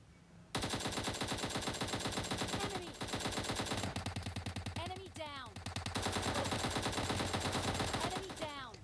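Rapid automatic gunfire in the PUBG Mobile battle game, dense loud bursts of shots nearly nonstop with brief pauses and some whizzing effects layered in.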